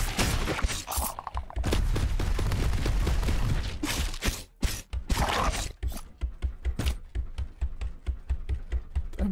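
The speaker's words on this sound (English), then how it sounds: "heavy shotgun" Heavy shotgun blasts in the game Dreadhunter, in a quick series of sharp, separate booms that fall into a fast, regular rhythm of close, punchy shots in the second half, after denser noisy action.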